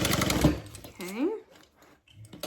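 A sewing machine runs in short bursts while stitching a seam on a Denver Double Zip bag, close and fairly loud, with a person talking over and between the runs.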